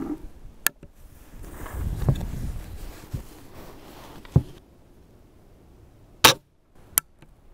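A .40 caliber flintlock rifle with a damp pan fires outdoors on a wet, blustery day, giving a sharp crack amid faint wind and scattered small knocks, fairly distant and without talk.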